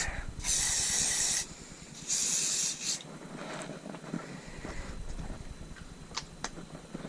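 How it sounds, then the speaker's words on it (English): Hairspray hisses from an aerosol can in two loud sprays of about a second each, close by, followed by quieter rubbing and handling sounds. "Here's the hairspray trick again."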